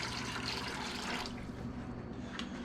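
Liquid pours into a container to vacuum-infuse wood, making a continuous splashing, bubbling trickle that is loudest early on, then thins to a quieter flow with a brief drip near the end.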